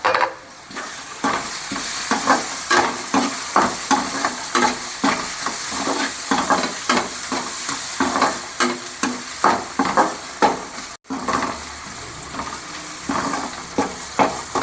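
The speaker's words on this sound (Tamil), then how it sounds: "ரெண்டுலேருந்து 3 நிமிஷம் இந்த வெங்காயம் நல்லா வதங்கி வந்தால் தான் கோல்டன் கலர் வரும்" Onions sizzle steadily in hot oil in a pan while a spoon scrapes and stirs them in a repeated rhythm, clearly audible and close, with a brief pause near the end.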